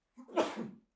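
One short, sharp human sneeze, heard close and alone, with a quick intake of breath and then a burst that lasts under a second.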